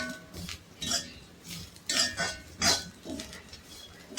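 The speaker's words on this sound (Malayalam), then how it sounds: "നല്ലോണം മൊരിച്ചങ്ങോട്ട് വറുക്കുക." Whole spices with a small piece of nutmeg seed being stirred and dry-roasted in a pan for a pork roast, with intermittent scraping and clinking strokes of a spoon against the metal, close and fairly quiet, no talking.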